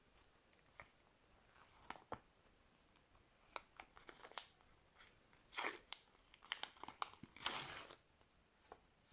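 A plastic ice cream packet crinkles and rustles in scattered bursts, quiet at first and then louder, denser crackling toward the end, handled close up with no talking.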